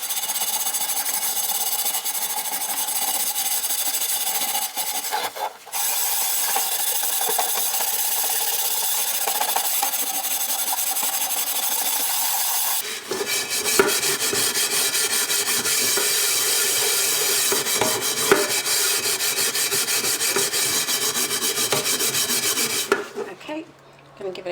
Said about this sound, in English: Again, metal scourer and the pink stuff.